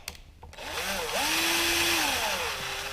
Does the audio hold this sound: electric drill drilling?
yes